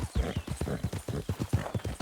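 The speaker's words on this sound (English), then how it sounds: "Ain't you a good horse?" Horse hooves clip-clopping in a steady, even trotting rhythm in Red Dead Redemption 2, close and distinct throughout with no clear whinny and no speech over it.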